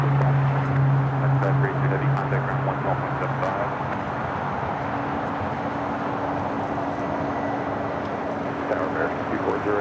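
A China Airlines cargo Boeing 777 freighter, brand new, powering up for takeoff at Los Angeles International Airport, a steady loud engine roar with a tonal whine, continuous and sustained throughout.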